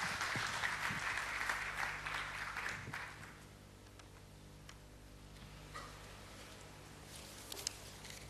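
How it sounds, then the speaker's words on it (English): Clapping from the audience at a real estate convention in Mumbai, strong at first, then thinning out after about three seconds into scattered claps over a quiet room hum. "Can we have a round of applause for him, please?"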